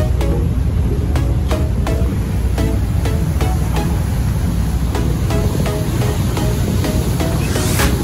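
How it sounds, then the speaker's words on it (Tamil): A fast cruise boat off Kangaroo Island, Australia, slices through open sea water with a loud, steady rush of spray and churn, punctuated by regular hull slaps and thumps, with no voices. "இந்த படகு வந்து தண்ணியை வந்து இப்படி கிழிச்சு கொண்டு போகுது"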